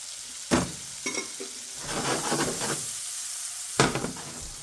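Chopped onion sizzles in Bluebonnet margarine in a skillet, a close, steady frying hiss broken by a few sharp scrapes and clatters from stirring.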